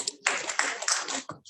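A crowd of audience members claps together at an International Day of Education event, a dense burst of many hands, steady and fairly close, filling about a second and a half before fading.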